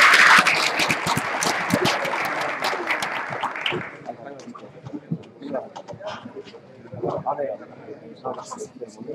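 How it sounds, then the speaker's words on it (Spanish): Applause at a line-following robot competition at OSHWDem 2016, a burst of clapping that fades after a few seconds into quieter hall noise and voices talking. "Dale un aplauso."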